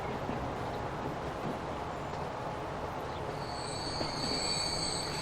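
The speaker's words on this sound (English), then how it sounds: "Let's go to first person because I want to see this train come faster." A train hauling open wagons loaded with steel rolls along in Transport Fever, giving off a steady rumbling roar with high metallic wheel squeal rising toward the end and no talking.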